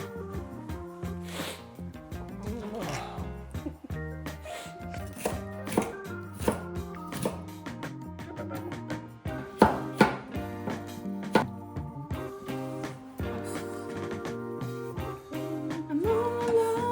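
Onions being sliced with a knife on a cutting board for Korean bulgogi, a steady run of close, crisp chops repeating in an uneven rhythm with no talking.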